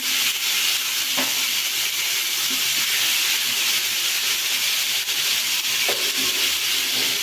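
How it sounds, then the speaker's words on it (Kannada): Fish fries in a pan with a steady, close sizzling hiss that runs unbroken, with a few faint clinks of a utensil. "ಮೀನು ಫ್ರೈ ಮಾಡ್ತಾ ಇದ್ದೀನಿ"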